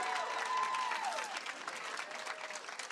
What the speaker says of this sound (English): So let's give him a round of applause for his willingness to run.